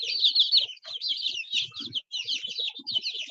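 A frizzle chick with curled feathers peeps and clucks close by in rapid, high chirping runs, broken by a few brief pauses.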